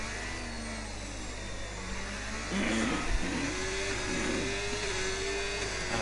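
Racing car engine on the final lap at Monaco in a racing video game, a steady whine that jumps louder midway as revs climb and then holds high, with no voices.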